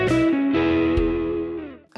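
A short electric guitar lick built on a 7th chord, with gliding, bent notes over a sustained, effect-laden chord that rings and then decays, played alone and up close.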